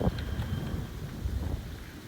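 Wind gusts buffet the microphone in a steady low rumble, with no voices and no other clear sounds.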